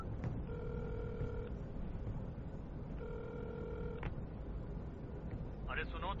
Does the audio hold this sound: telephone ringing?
yes